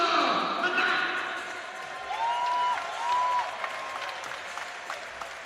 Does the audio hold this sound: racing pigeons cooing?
no